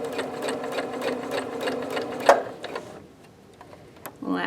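A sewing machine stitches a fabric seam, its steady rapid ticking running close and continuous for about three seconds before dropping to a quieter hum with a few isolated clicks.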